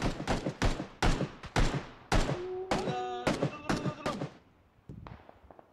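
Gunfire in PUBG: a string of sharp, loud shots in uneven bursts, several sounding close and punchy, with a brief ringing metallic tone partway through and a quieter tail at the end.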